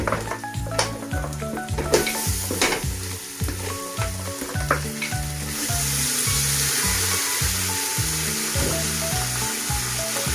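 Goat meat for a calderita goes into a pan of frying garlic and onion, giving a loud, continuous sizzle that swells after the meat is added, with stirring and clattering of the utensil against the pan throughout.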